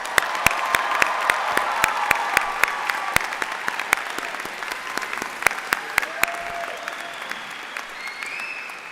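Sustained applause from a large crowd for the graduating class at a law school commencement, dense clapping with a few sharp close claps standing out, faint cheering and voices mixed in as it slowly fades.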